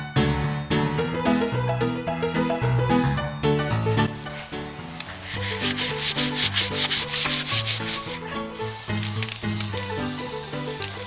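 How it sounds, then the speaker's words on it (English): Spray-on glue hisses from an aerosol can in a steady burst lasting several seconds while a Rubik's Cube is being built, all under loud background music. "Spray on glue."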